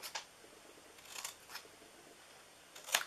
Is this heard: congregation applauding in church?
no